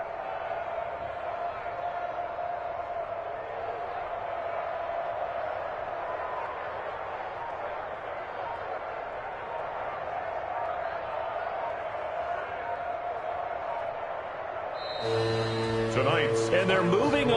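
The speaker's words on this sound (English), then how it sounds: "And the home crowd applauding." Home crowd applauding and cheering in a PS4 football video game, a steady broad crowd roar lasting throughout with a brighter burst near the end, mixed with game audio.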